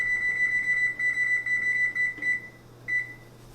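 A kitchen oven timer, set while keto pecan bars bake, sounds a string of sharp, high-pitched electronic beeps in short uneven bursts. The beeps are clear and close over a low hum, then stop and return once before the end.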